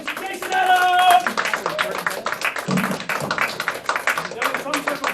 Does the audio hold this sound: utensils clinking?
no